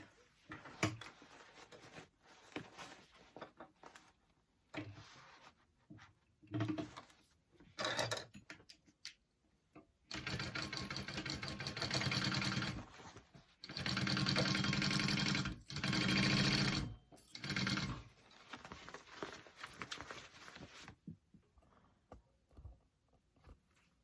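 Sewing machine basting fabric onto a lining for a beachcomber pouch, running in several steady bursts of stitching with short pauses between, fairly close and alone, with quiet handling noises around the runs.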